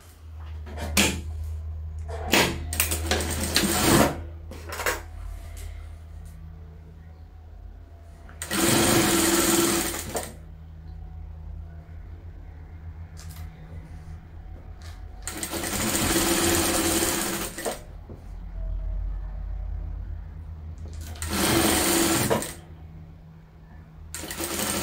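Sewing machine stitching a seam on a double-sided patchwork bag, in several close, loud bursts of rapid whirring separated by quiet pauses and small handling clicks.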